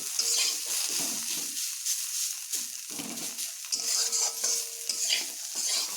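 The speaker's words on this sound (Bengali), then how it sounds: "এবার নুন হলুদ মিশিয়ে এগুলোকে বেশ ভালোভাবে ভেজে নেব" Pointed gourd peels fry with salt and turmeric in a pan, a bright sizzle interrupted by repeated scraping stirs of a utensil against the pan, close and steady.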